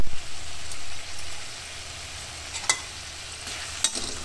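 Spice powder frying in a pan for South Indian bisi bele bath. A dense, steady hiss of sizzling runs throughout, with a couple of faint metallic clinks toward the end.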